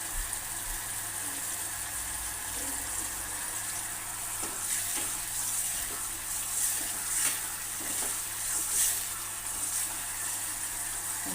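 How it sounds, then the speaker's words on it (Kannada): Tamarind mixture for puliyogare simmering in a pan, a steady soft sizzle and bubbling with faint stirring scrapes throughout, moderately quiet and continuous with no talking. "ಒಂದು ಹತ್ತು ನಿಮಿಷ ಬೇಯಿಸ್ಬೇಕು ಹುಳಿನ"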